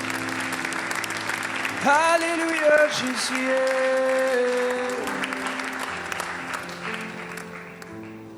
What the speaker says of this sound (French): Est-ce qu'on peut donner une bonne main d'applaudissement?